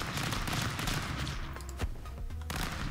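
Gunfire in the video game Stick Fight, a fast continuous volley of shots, fairly faint, running without talk.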